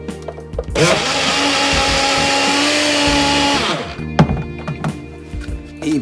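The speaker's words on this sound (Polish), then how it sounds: "Jeszcze raz uruchomię mikser" An electric mixer whirs loudly and steadily for about three seconds while vanilla pudding is made, spinning up and then winding down, with light clatter from the pan before and after.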